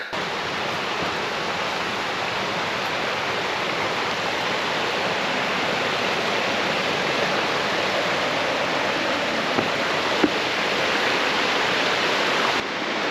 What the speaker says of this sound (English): stopping here at Lick Creek to get a little view of the rocks and the water coming down